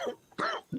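Three quick, raspy coughs in a row, fairly soft and close, with short pauses between them.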